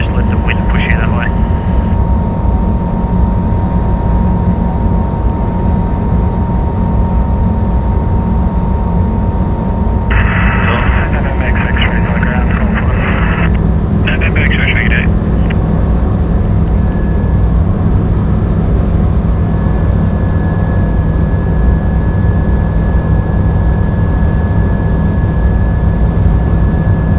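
A Sling 2 light aircraft engine drones loud and steady through circuit flying, with constant propeller and wind roar throughout and brief radio-like tones in the middle.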